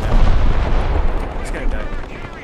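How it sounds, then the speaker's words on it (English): An anti-aircraft flak gun fires in the War Thunder combat game, loud booming shots in a dense, continuous barrage under low rumbling battle noise, with a player speaking over it. "And we'll just do AA for a while. There's a flak gun."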